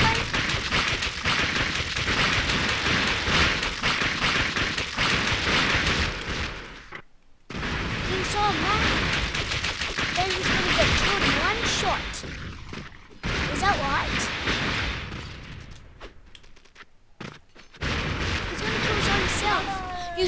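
Dense, rapid gunfire from the Expendabros video game goes on almost without pause, loud and close, with a few brief drops into near silence.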